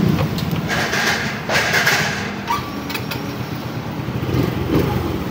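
A brand-new Suzuki Smash 115 Type R motorcycle pulling away: a steady, loud engine drone with wind rush, recorded close from the rider's position, with no speech.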